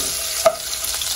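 Onions are stirred in a frying pan, a soft hiss of frying with a single sharp scrape of the utensil, close and brief with no talk.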